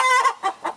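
A hen clucks three times in quick succession, close and clear, short nasal clucks with no talking over them.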